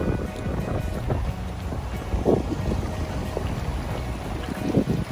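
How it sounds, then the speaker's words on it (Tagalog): Steady strong autumn wind at an onsen in Akita, Japan, buffeting the microphone, a constant low roar with occasional gusts, no talking. "Lakas ng hangin guys"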